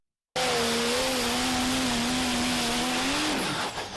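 A Power Wagon pulling truck at a truck pull, its engine revving hard in a sustained high-RPM roar that rises slightly, then drops off near the end as the driver lets off, loud and close.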